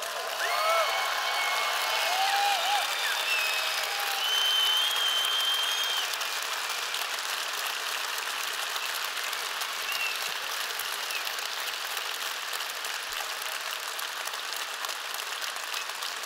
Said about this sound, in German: Bitte einen fetten Applaus fürs Team und die beiden.